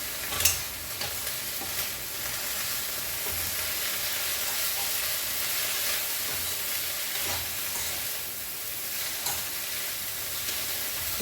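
Tender tamarind leaves fry in hot oil in a pan, giving a steady, close sizzle with occasional scraping stirs over about eleven seconds.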